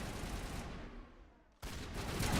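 A grenade goes off in a shooter video game: a brief lull in the steady gunfire gives way to a sudden, loud, broadband blast, followed by continuing heavy combat noise.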